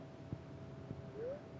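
Cat meowing in the video game Stardew Valley, a single faint rising meow near the end after a couple of soft taps, quiet and alone in a game scene.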